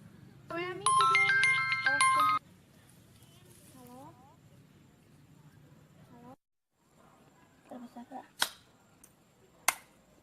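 A telephone rings with a bright electronic melody for about two seconds, then cuts off. Quieter voices and a few sharp clicks follow.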